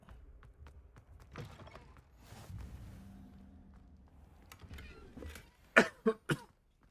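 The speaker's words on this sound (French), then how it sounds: "Du coup, je tousse un petit peu." Scattered quiet noises give way to three sharp, close coughs in quick succession near the end, then silence.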